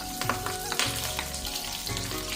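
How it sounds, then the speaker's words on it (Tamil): Curry leaves and round-cut shallots sizzle and crackle in hot coconut oil while tempering, a dense continuous frying hiss with sharp pops, close and loud with no voices. "கொஞ்சம் கருவேப்பிலை போட்டு தாளிச்சிக்கலாம்."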